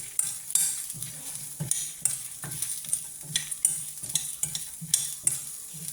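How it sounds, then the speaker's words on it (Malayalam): Black pepper being stirred and fried in a pan for hotel-style tiffin sambar, a close, steady sizzle with repeated scraping stir strokes in a regular rhythm, no voices. "1/2 ടീസ്പൂൺ കുരുമുളക് കൂടെ നമുക്കിടണം. അതുകൂടെ ഒന്ന് മൂക്കണം."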